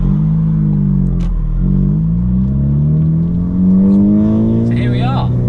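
A 500bhp widebody Ford Focus ST rumbles steadily as it drives, engine note climbing gradually with a brief rev swell, close and loud, with a voice talking over it.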